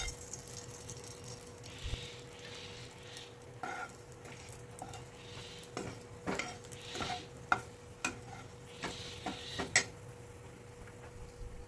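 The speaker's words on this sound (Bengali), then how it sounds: "এবার ওই তেলের মধ্যেই দিয়ে দেব গোটা গরম মশলা" Whole garam masala, including slit cardamom pods, frying in hot oil, with a soft sizzle under a steady hum and intermittent light clicks and stirring taps.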